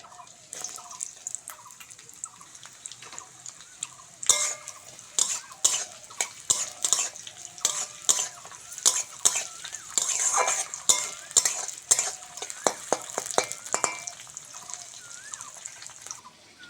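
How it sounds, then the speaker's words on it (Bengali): Five-spice seeds, onion and green chili fry in hot mustard oil, a steady sizzle punctuated by frequent sharp clinks and scrapes of a metal spoon stirring in the pan. "ফোড়নের জন্য পাঁচ ফোড়ন নিয়েছি তেলের মধ্যে দিয়ে দেবো সঙ্গে পেঁয়াজ কাঁচা লঙ্কা"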